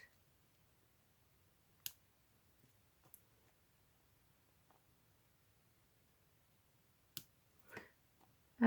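Scissors snip overly long dangling strings on a dreamcatcher glued into a boho journal: a few sparse, crisp little cuts in an otherwise quiet room, with long pauses between them.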